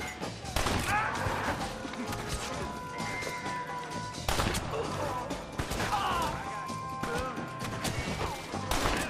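Western-style gunfights in Red Dead Redemption: scattered loud shots and sharp cracks from several guns, irregular and close, mixed with in-game voices shouting over the shooting.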